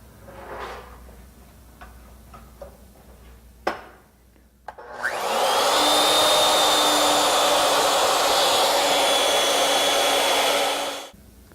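A wooden blank for a hollow spiral candlestick is turned round on a lathe. A few knocks and clicks come first, then a loud, steady, broadband cutting roar with a whining hum runs close by for about six seconds and stops abruptly.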